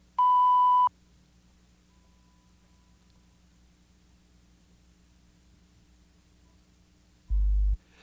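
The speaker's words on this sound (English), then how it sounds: "Stop the projector when you hear the tone" Two brief electronic beeps from a filmstrip projector mark the frame advance, one clean high tone at the start and a lower buzzy blip near the end, with faint hiss in between.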